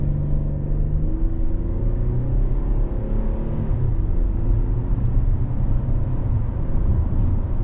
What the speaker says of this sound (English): now we're going to take off, see how this V6 does